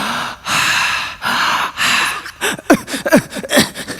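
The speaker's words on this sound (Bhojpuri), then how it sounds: "लंबा सांस लीजिए" During a mock medical check-up, a person breathes deeply and heavily, with a few long drawn inhales and exhales giving way to quicker, choppy gasping breaths near the end.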